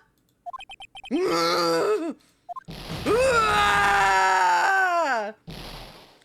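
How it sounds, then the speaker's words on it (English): Drawn-out screams and anguished wails from a character in Phoenix Wright: Ace Attorney, loud and close, with short clicky text blips before two long cries and a brief final burst. "Big scream."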